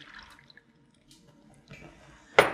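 A cup of milk is poured into whisked dry ingredients for a peach stone fruit buckle batter: a faint liquid trickle builds to a short, louder splash near the end.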